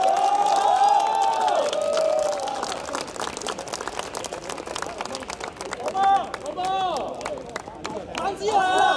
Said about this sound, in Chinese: 各位掌声啊！